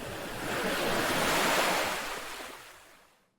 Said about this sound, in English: ocean waves splashing gently against a rock